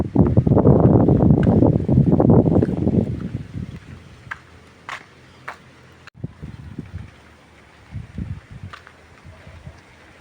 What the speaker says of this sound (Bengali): সেই সাথে বাতাস অসম্ভব সুন্দর